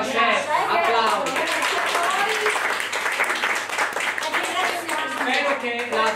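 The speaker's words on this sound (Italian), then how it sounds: "Applausi" Applause from a small group closing an Italian home cooking show, a steady dense patter of clapping lasting throughout, with voices talking over it the whole time.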